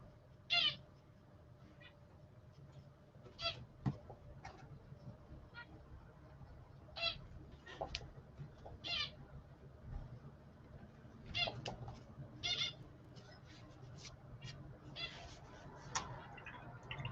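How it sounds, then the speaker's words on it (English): A pet bird hopping around gives short, bright chirps scattered across a long stretch of quiet room noise, with a few clicks and light taps between the calls. "At least my bird is enjoying himself. He's very happy, just jumping around."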